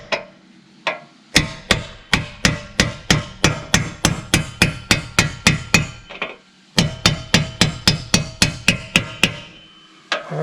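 A power driver hammers a meter plug into place during an electric service installation, loud close impacts in fast regular bursts, pausing briefly midway before resuming.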